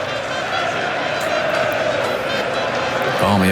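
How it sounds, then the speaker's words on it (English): A large cricket crowd at an England v Australia Ashes Test chants and roars in a dense, continuous wash of noise, loud and sustained, with a commentator talking over it. "Chanting gets louder and louder."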